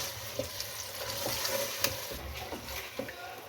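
Washed chicken pieces fry in oil in a pot for chicken pulao, giving a soft, continuous sizzle with scattered light pops and clicks, fairly quiet throughout.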